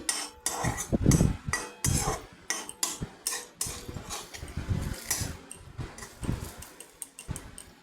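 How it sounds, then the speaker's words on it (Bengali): A utensil repeatedly scrapes and clatters against a pan while pointed gourd and curry leaves are stirred, giving irregular close metallic strokes with no talk. "হালকা হাতে নাড়াচাড়া করে নিয়ে ফ্লেভারটাকে এর সাথে মিশিয়ে নিচ্ছি"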